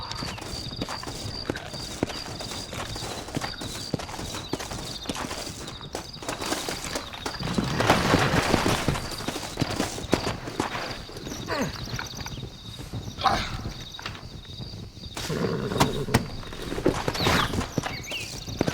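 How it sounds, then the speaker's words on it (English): Horses in Red Dead Redemption clip-clop continuously at a steady pace, with hooves thudding close by, a whinny or two, and occasional rustling under a faint steady hum. "Looks like Carlos left us some horses."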